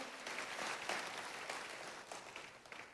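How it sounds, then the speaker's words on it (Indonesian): A church congregation gathered for a praise service claps together, a broad, steady wash of applause from many hands, fairly distant and even throughout. "Tepuk tangannya yang paling meriah buat Tuhan kita"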